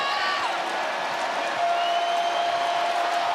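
A wild home crowd at an Auburn Tigers basketball game against Alabama in the arena called the jungle, a dense, continuous roar of cheering and applause with sustained whistle-like tones running through it.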